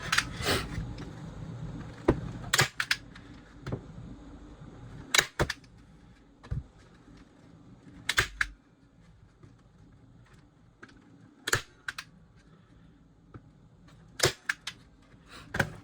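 A staple gun fires repeatedly into felt being pulled taut over carpeted pet stairs, giving sharp isolated snaps spaced a second or two apart over a quiet room with soft handling noises.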